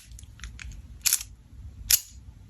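Miniature toy black Beretta pistol being reloaded: several faint light clicks, then two sharp, close metallic snaps about a second apart, alone over low background hum.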